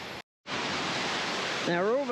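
Mae Ya waterfall in Chiang Mai roars as a steady, loud broadband wash, briefly cut off near the start, with a voice speaking over it toward the end.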